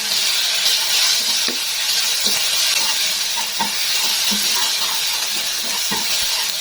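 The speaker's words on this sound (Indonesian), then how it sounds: "Setelah itu kita tumis dan aduk aja bumbunya sampai wangi." Ground spice paste with nutmeg and crushed ginger sizzles steadily in hot oil in a pan as it is stir-fried for chicken soup, with a constant hiss and faint scraping of the stirring.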